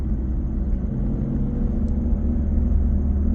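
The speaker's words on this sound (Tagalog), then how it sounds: "Ganito lang ang traffic pag sa stoplight." Low idling rumble of car traffic waiting at a stoplight in New Zealand, a steady close engine drone inside a vehicle with a faint thin whine above it and no voices.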